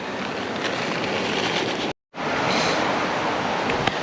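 Wind blows steadily at a cookout spot under a bridge and buffets the microphone with a broad, rushing roar. A brief full dropout cuts it near the middle.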